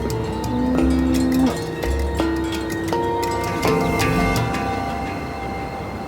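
Holstein dairy cows moo on a farm in Hokkaido, Japan, with several long, drawn-out calls in a row, fairly close and loud, over a light background of farm noise.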